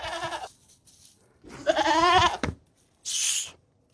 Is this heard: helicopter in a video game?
no